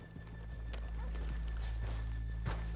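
Horses in the Red Dead Redemption 2 video game walk with steady hoof clip-clops and give a neigh, close by, as riders stop to leave them off a town's main street, with a little talk around.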